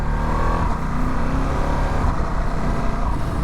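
Engine noise from a Ducati Multistrada V2 S, a 937cc V-twin adventure motorcycle, pulling hard under acceleration, with a steady, loud and close drone that holds for the whole stretch.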